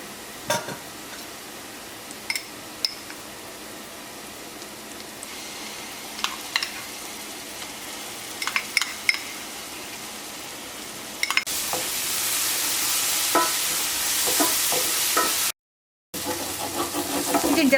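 Onions fry in coconut oil with a quiet sizzle and occasional stirring clicks, then ginger garlic paste goes in and a loud, dense hiss erupts and continues to the end.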